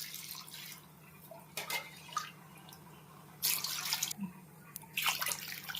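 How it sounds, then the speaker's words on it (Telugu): Water is poured into a cooking pot for spicy chicken pulao, giving irregular splashing and trickling bursts over a steady low stove hum, with no voices. "వాటర్ యాడ్ చేస్తున్నానండి."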